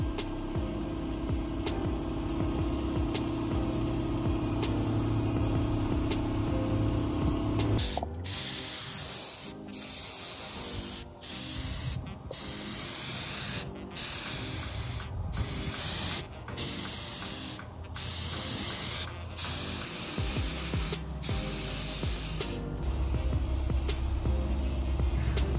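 A spray gun sprays coating onto a boat fuel tank cover at 50 PSI, a loud steady hiss that starts abruptly after a quiet stretch and runs in long passes broken by brief pauses as the trigger is released.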